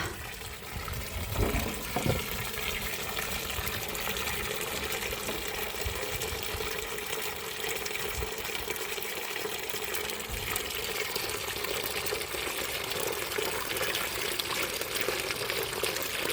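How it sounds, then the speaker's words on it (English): Rainwater pours steadily into the tank of a battery-powered jet washer, a continuous, moderately quiet splashing and trickling fill that lasts throughout with no voices. "Now we're going to fill back up with the water"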